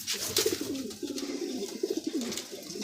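Several Madrasi pigeons from a breeding pair in Kolkata coo steadily in low, throaty rolling calls, close by, with faint rustling behind them.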